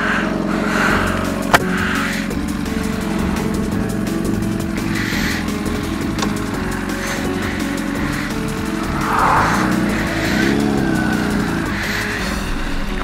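A car passing on a road, its engine and tyre noise steady and fairly loud throughout, swelling as it goes by, with no voices.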